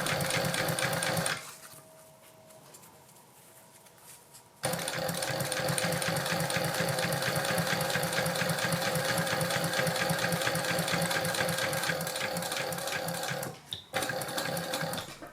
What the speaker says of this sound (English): he does a test first to check that the sewing machine is happy